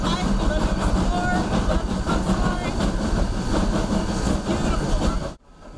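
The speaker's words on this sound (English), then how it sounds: "Passengers started to ride the train for the scenery." A passenger train runs from the Fort Bragg station through a redwood forest, giving a steady, loud rumble with rail clatter and hiss for several seconds before cutting off abruptly.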